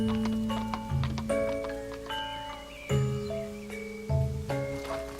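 An animated horse-drawn andong cart moves along with hooves clip-clopping in an even rhythm, mixed with jingling bell-like tones that ring throughout, with no voices.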